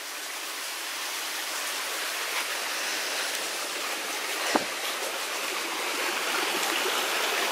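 A small stream trickles along a woodland walking path near Cheddar, a steady, even wash of running water heard close by and alone, with one brief tap partway through.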